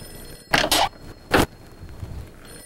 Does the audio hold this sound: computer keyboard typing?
no